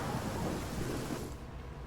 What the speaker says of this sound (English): Hopefully the rain clears.